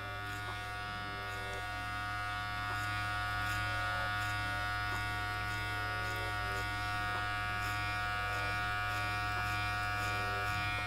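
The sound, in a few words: Electric hair clippers cutting hair for a taper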